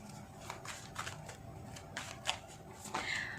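Tarot cards are shuffled and drawn with repeated quick riffling and flicking bursts, close and fairly quiet, set against a faint steady background hum with no speech.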